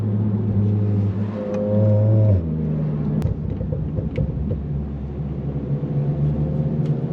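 A Volkswagen Mk7 GTI engine revs up loudly with rising pitch, then drops into a lower rumbling drone as the car keeps accelerating, no voices.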